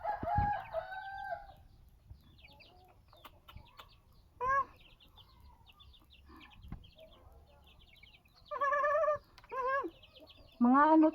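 Chicks and a hen in a backyard, bursts of shrill peeping and clucking calls scattered across quiet gaps, a few loud and close, with faint soft background noise between.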